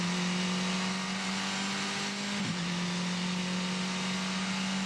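A 2016 Formula 4 open-wheel race car circling Symmons Plains in Tasmania, heard as a loud, steady, high engine drone with a brief dip in pitch near the middle.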